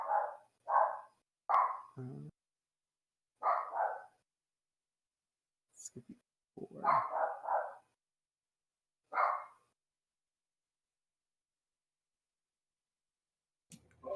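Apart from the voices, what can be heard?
dog barking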